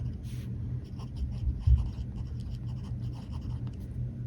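Gold-nib fountain pen writing on paper, soft scratchy strokes in quick irregular bursts, close and quiet over a low background hum.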